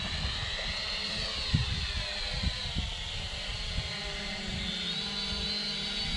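Triple R 58 HS 120d drone motors spinning up for takeoff, a steady high whine with rising tones, heard alone with a few low bumps underneath.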